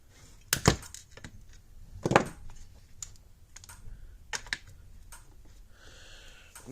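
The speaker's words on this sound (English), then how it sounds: "let's snip this little peg right here" Small plastic peg on a 1999 Gallagher B75 R fence charger snipped with cutters, a few sharp, crisp clicks and snaps at close range amid quiet handling noise.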